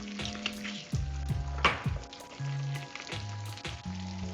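A breakfast burger patty sizzles steadily in a hot pan, a close, continuous crackling fry with a few brief scraping sounds and no voices.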